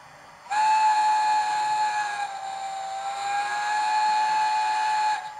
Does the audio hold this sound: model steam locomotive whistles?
yes